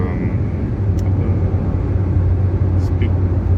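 A car crosses the Penang Second Bridge and overtakes another vehicle, giving a steady low road rumble and engine hum, with a faint voice talking over it.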